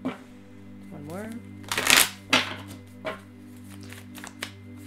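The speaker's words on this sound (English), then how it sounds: "let's just do a couple more shuffles." Tarot cards are riffled and shuffled in a few quick bursts, with soft snaps and rustles over a steady low hum.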